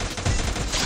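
A burst of gunfire in the video game Free Fire: loud, dense, rapid shots packed into under a second.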